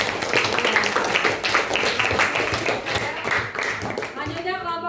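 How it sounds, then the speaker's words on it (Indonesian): Schoolchildren clapping in a classroom after a group reads its answer, a busy burst of small hands clapping with children's voices mixed in, near and fairly loud. "Tepuk tangan."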